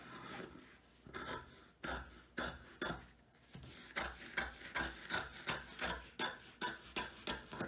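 Boat cover fabric being trimmed by hand, giving a run of short rasping cuts, a few spaced apart at first, then quicker and more regular strokes close by, with no talking.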